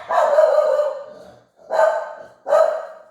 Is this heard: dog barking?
yes